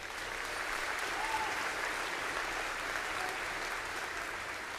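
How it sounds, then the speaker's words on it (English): A school auditorium audience at a high school veterans assembly applauds the Wind Symphony with a dense, sustained wash of clapping from many hands, steady and even throughout, with no talking. "Let's have one more round of applause for the Wind Symphony."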